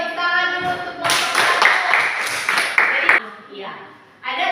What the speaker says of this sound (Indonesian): Oke, tepuk tangan dulu untuk kelompok